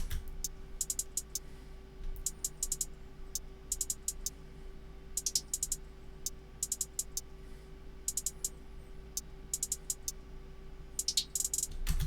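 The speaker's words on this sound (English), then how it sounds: "this is what the two hi-hats sound like together" Two layered hi-hats in an opium-type trap beat, quiet clusters of crisp, rapid ticks repeating in a steady pattern over a low, constant hum.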